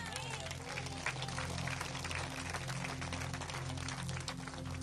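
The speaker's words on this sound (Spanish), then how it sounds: "Fuerte aplausos, Iglesia de Cristo" A church congregation applauds loudly at an evangelical service, heard as a faint, distant, steady patter of many hands that runs the whole time over a low electrical hum.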